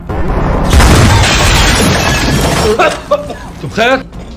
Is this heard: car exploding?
yes